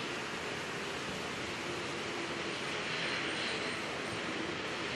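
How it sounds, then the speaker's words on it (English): An ATR turboprop at an airport, heard as a faint, distant, broad whooshing roar that stays steady the whole time with no voices over it. "Oh, that's a noisy ATR over there, isn't it?"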